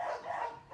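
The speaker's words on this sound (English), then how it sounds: "go over there with them, and maybe they'll quit barking" Dogs at a homestead give a brief burst of muffled barking at a moderate distance, under a steady background hum.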